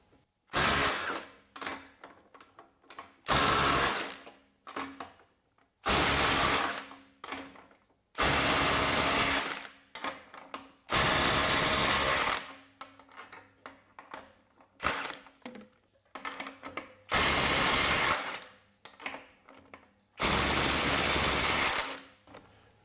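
A Ryobi P262 mid-torque impact wrench fires in about nine loud, close bursts of hammering, each lasting one to two seconds and separated by short pauses, while working at 250 foot-pounds.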